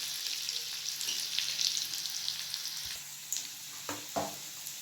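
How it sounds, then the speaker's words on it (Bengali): Something sizzles gently in hot oil in a pan, browning lightly for a red amaranth greens dish, with a steady soft frying hiss and a few scraping stirs near the end, no voices. "এটাকে খুব কড়া করে ভাজবো না, সামান্য একটু হালকা লালচে লালচে করে ভেজে নিয়ে তুলে দেব।"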